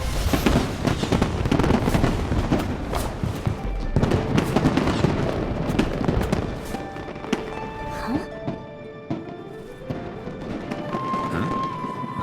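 A fireworks show in a video game crackles and booms continuously, with dense bursts, thumps and whistling trails layered over game music and sound effects, loud and close throughout.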